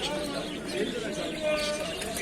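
Pigeons at an İzmir bird market coo and chirp close by in a busy, noisy setting, with people talking over and around the birds.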